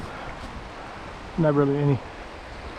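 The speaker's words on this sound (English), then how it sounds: "This is swift water." Swift-flowing river water rushes in a steady, broad hiss outdoors on a cold day, and someone briefly speaks over it partway through.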